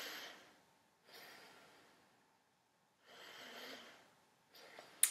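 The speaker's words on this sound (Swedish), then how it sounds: "man andas djupt ner i kroppen" Slow, deep breathing into the belly: two long, soft breath cycles, each a hushed airy inhale or exhale lasting about a second, separated by quiet pauses, close and calm.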